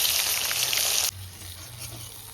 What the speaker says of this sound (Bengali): এবার ডিমটা ভেজে নি, ডিমটা দিয়েই তুলে নিতে হবে, তেলটা খুব গরম তো। ডিমটা ফাটছে।